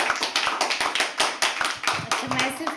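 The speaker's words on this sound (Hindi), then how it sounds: "तालियां बजाते रहें।" An open mic poetry audience claps in welcome as a poet comes on stage, a brisk patter of separate hand claps with a voice speaking briefly near the end.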